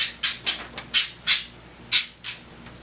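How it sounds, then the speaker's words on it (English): Sharp, harsh bird squawks repeat about eight times in quick, uneven bursts, loud and close, with brief quiet gaps between calls. "my birds can hear me and they want to be a part of this conversation"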